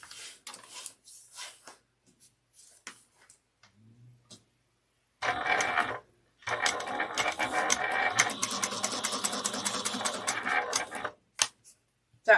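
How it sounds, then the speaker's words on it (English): A sewing machine stitches along the top of a leather espresso wallet, with a few faint clicks of handling first, then a short run of close mechanical stitching, a pause, and a longer steady burst. "We're going to sew 1/8 of an inch down."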